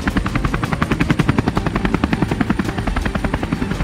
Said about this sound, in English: There's nowhere to land a chopper, so I'm going to rappel down to the forest floor.